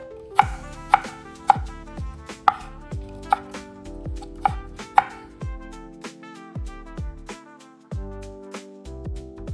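Knife chopping green onion on a cutting board, a series of crisp, close, evenly spaced knocks, about a dozen strokes, sounding alone without any talk.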